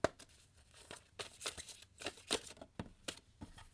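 A deck of tarot cards is shuffled by hand, giving a run of quick, uneven papery flicks and riffles, close and fairly quiet, with no voices over it.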